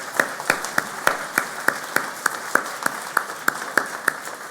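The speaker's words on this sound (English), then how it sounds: "Clinton Dexter Nienhaus and Bob Dunlap, I want to give a special round of applause and welcome to the board." Steady clapping from a modest audience at a Minnesota Ornithologists' Union business meeting, a sparse and even run of distinct individual claps in a room, moderately close and heard on its own.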